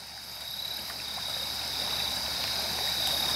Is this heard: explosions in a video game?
no